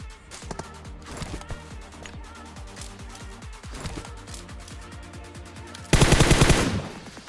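Rapid bursts of automatic gunfire from the mobile battle royale game PUBG Mobile, loud and close, with repeated sharp shots in quick rhythm throughout and a dense, louder burst near the end.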